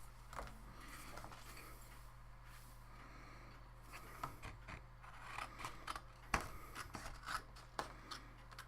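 Quiet snips and soft rustling as red paper card is trimmed by hand for a Lawn Fawn layered slider card, with faint handling noises rising in the last few seconds and a low hum underneath.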